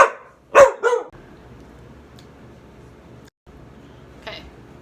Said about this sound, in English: that was my rude dog